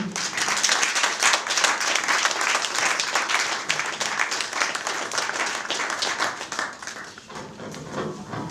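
Audience applause greets a performer being introduced at an association's inauguration evening, steady dense clapping from a crowd lasting throughout, loud and continuous before tapering slightly at the end.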